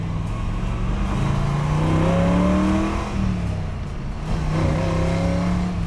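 A 1962 Corvette engine revs hard toward 5,500 RPM, its loud, close-up roar climbing and falling in pitch without a break and with no voices over it.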